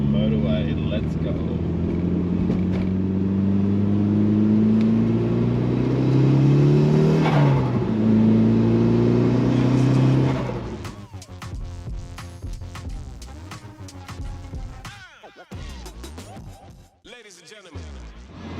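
A Mitsubishi RVR minivan accelerates along the Pacific Motorway, its engine note climbing steadily through the gears as a loud sustained drone, then easing to a quieter cabin hum with a voice talking.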